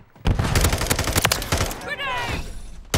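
Gunfire in Call of Duty: Modern Warfare III, a dense burst of rapid automatic shots cracking close and loud for over a second, followed by a brief whistling tail and one more sharp shot.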